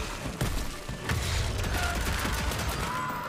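Rapid-fire gunshots in the video game Evil West, a dense, loud burst of repeated shots with punchy low thuds running steadily through the whole stretch.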